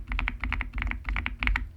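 Rapid typing on a Dark Project KD87A mechanical keyboard fitted with its stock Mount Stone switches: crisp, evenly spaced clacky keystrokes in quick bursts, close and clear with no talk.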